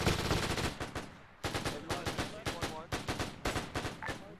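An MG42 machine gun in a WWII campaign video game fires several rapid, rattling bursts, close and sharp, with a brief pause before the later bursts.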